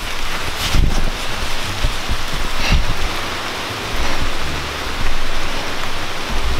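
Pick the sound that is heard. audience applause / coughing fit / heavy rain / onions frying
heavy rain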